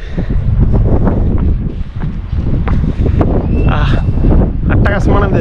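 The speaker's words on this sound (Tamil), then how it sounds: "காத்து சூப்பராக வருது" Wind blows hard at an open hilltop viewpoint near pyramid ruins in Mexico, a loud continuous rumble of wind buffeting the microphone, with people talking over it.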